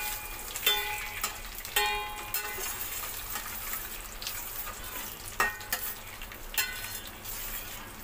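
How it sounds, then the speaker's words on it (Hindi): Almonds and cashews roast in a pan, giving a steady low sizzle broken by several scraping stirs and clattering knocks of nuts, close and moderately loud with no talking. "ये है बादाम, ये है काजू। इन्हें सिर्फ हमें रोस्ट करना है।"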